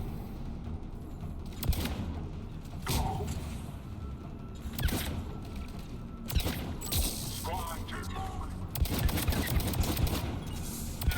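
Pistol gunfire in the video game Mass Effect 3 comes as several sharp, separated shots between softer game effects and background combat noise, with voices speaking at points.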